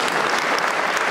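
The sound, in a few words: audience applause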